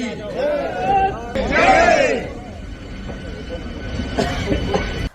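MEMU electric train running near a station on the Asarva–Chittorgarh route, a close rumbling pass with squealing wheels and a rising whine, with people talking over it.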